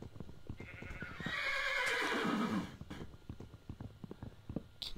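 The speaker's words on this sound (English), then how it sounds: "You're noisy, horse." A loud horse neigh from the Minecraft video game, a long descending whinny lasting over a second, set against quick repeated tapping sounds and otherwise alone.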